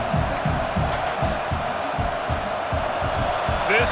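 A packed stadium crowd roars in a college football video game, NC State at Clemson in the Textile Bowl, a dense, loud wall of noise with a rhythmic, pulsing chant beneath it.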